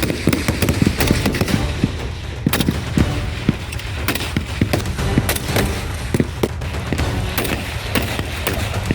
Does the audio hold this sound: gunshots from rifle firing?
yes